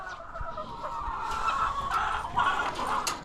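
Several chickens cluck and squawk close by in a steady, busy chatter, with bright calls popping up over a continuous flock murmur, no talking.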